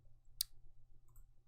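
A single sharp mouse click while working in Houdini software, a short crisp tick alone over a low steady room hum.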